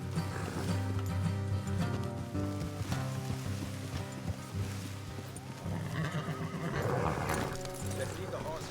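Horses whinny and neigh over a busy orchestral music bed in Red Dead Redemption 2, with hooves clopping and voices speaking in the mix.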